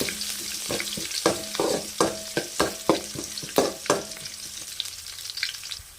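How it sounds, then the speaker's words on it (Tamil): Chillies sautéing in hot oil in a pan with cloves, cinnamon and star anise, a close sizzle punctuated by a regular series of sharp stirring knocks that fade out near the end. "மிளகாய் ஒரு 2 நிமிஷம் வதங்கட்டும்."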